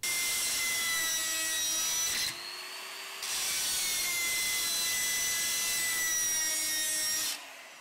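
Drilling attack on an HKR anti-drill lock: a steady, loud high-pitched drill whine grinding into the lock, pausing briefly around the middle before resuming, then cutting off near the end.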